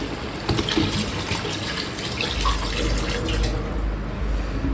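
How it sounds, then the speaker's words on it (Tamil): Water is poured into a pot of chicken biryani, about 650 ml, giving a continuous close splashing gush with no talk. "இப்போ அப்படியே ஒரு 650 ml ஆஃப் வாட்டர் ஊற்ற வேண்டியது தான்."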